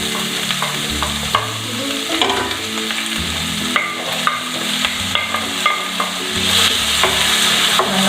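Cashews, carrots and beans frying in a pan for semiya upma, stirred with a spoon. Steady sizzling runs throughout, with repeated scraping and stirring strokes close by.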